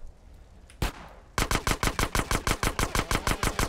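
Video game gunfire in GTA San Andreas: a single loud shot, a brief pause, then a rapid, evenly spaced burst of automatic fire, close and punchy, with no voices.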